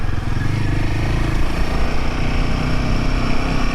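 A Royal Enfield Himalayan 450 motorcycle on a test ride holds a loud, steady engine drone with a constant rumbling exhaust note, close and continuous with no talking.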